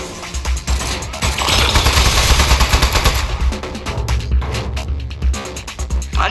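A turret in the video game Aperture Desk Job firing a loud, sustained burst of rapid automatic gunfire, dense and continuous at first, then thinning into choppier bursts, with no talking.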